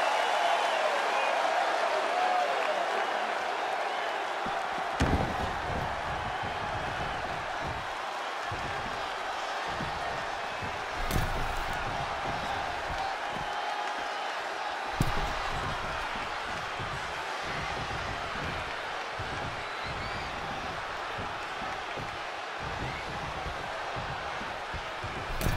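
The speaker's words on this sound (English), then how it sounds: "The sound of this crowd is deafening" A wrestling arena crowd roars and applauds in a loud, sustained wash of cheering, punctuated by sharp thuds and slams from the ring, with a commentator's voice talking over it.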